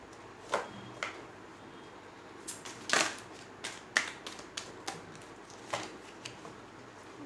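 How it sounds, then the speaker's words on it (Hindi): Tarot cards handled on a table: scattered soft snaps and flicks of cards being shuffled and pulled from the deck, quiet and close, with no talk. "मैं कुछ और कार्ड्स पुल आउट करूँगी"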